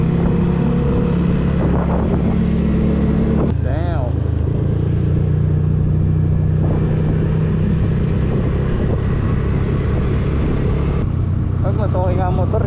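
A motorcycle ridden on a mountain road near Sagada, a Yamaha Aerox V2 scooter or Kawasaki Ninja ZX4RR, its engine droning steadily and loud under heavy wind buffeting, with brief voices over it.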